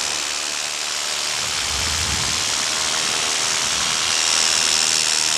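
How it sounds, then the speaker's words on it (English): A paramotor engine runs at a steady idle after starting, a continuous mechanical drone with a low rumble swelling midway and a faint high whine creeping in toward the end, with no talking. "I've now pre-flighted my engine. I will start that just to make sure that it's starting."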